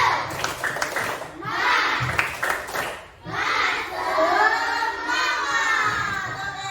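Group of children doing a rhythmic clap chant, sharp claps and shouted voices in bursts, loud and close, with a short pause midway before a longer sustained shouting section.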